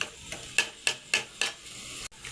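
A spoon knocks and scrapes against a pot of mash daal, Peshawar style, in five evenly spaced clanks about a quarter second apart, with a faint background hum and no talk.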